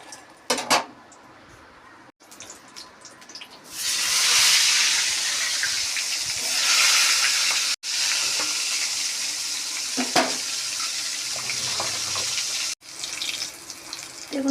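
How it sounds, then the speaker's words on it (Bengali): Eggplant slices sizzle loudly in hot oil in a home kitchen pan, a steady bright hiss that swells and fades with clinks of pots and utensils, stirring and a brief run of tap water. "ভালো করে এরকম লাল লাল করে ভেজে নিতে হবে।"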